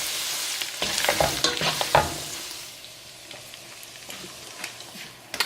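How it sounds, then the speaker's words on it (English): Butter is stirred into a green spaghetti sauce in a pan, close scraping and sizzling strokes in a busy first half that settle into a quieter simmer. "So you just want to mix that up."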